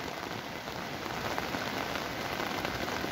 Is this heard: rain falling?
yes